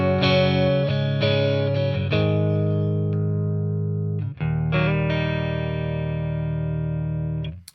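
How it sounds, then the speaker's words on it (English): Clean electric guitar chords ring through a BOSS Katana MK2 amp, miked directly, a few strummed hits followed by long sustained decays, close and fairly loud, no voices. "I want you to hear the sound of the amplifier with the mic straight in."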